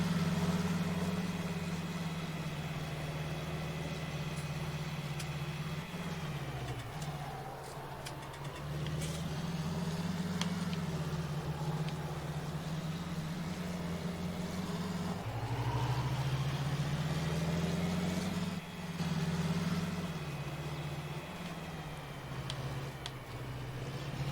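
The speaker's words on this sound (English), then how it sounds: "I love these John Deere tractors." A John Deere tractor engine idles steadily in the Farming Simulator 19 game, a continuous low droning hum with slight pitch shifts around the middle and latter part, no voices over it.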